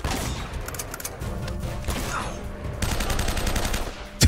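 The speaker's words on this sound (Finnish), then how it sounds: "Mä ammun sua metrin päästä dessulla." Rapid gunfire from a Desert Eagle pistol in the action game Uncharted, loud and dense bursts filling the whole stretch, growing heavier toward the end, with faint talk underneath.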